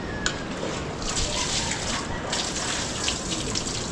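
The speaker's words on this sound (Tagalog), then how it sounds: "Tapos ang gagawin mo naman, bubuhos ka naman tubig." Water poured out at an outdoor bathing spot, a steady splashing, gushing stream that runs continuously for about four seconds, fairly close and loud, with no talking over it.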